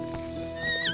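A horse in the game Medieval Dynasty gives a brief, loud whinny over soft hoof clops as it starts to gallop, close and alone with no speech.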